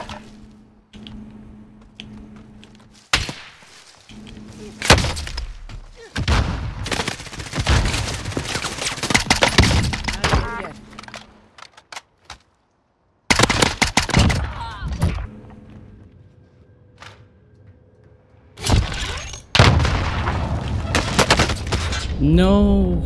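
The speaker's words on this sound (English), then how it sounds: "Someone is shooting him." Gunfire in Call of Duty Cold War Warzone, clusters of rapid shots that come in bursts with quiet gaps between them, with in-game voice and sound effects alongside.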